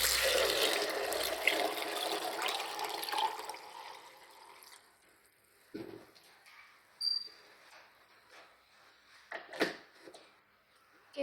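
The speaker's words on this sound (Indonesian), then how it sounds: "kita tambahkan 1 liter airnya" Tap water poured from a container into soaked soybeans for homemade soy milk, a broad liquid splash that runs steadily for several seconds, then fades to quiet with a few soft clinks and faint rustles.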